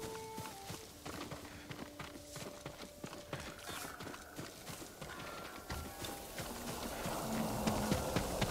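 Horse hooves clip-clopping at a walk near a stable in the PS5 game Ghost of Tsushima, a soft steady rhythm of footfalls under quiet game music tones, with a faint possible whinny.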